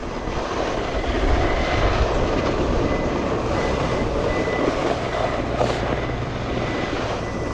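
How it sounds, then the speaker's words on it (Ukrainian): A snow groomer working a ski slope at Bukovel resort, heard as a steady, loud engine roar that drones on without break, with no talk. "Ось ратрак рівняє двійку."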